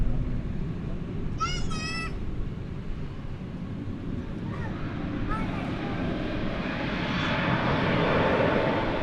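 A Frontier airliner in green livery moves at DFW Airport at night, a steady low engine roar building gradually, distant and broad, with a brief radio-like chirp early on.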